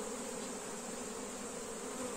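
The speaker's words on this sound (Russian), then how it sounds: "Трусил всю пчелу. Сейчас она потихоньку на рамке пойдет." Honeybees shaken onto a hive frame after being collected as swarms from cardboard traps in a forest, giving off a steady, dense buzzing hum that holds unbroken and fairly quiet throughout, with no talking.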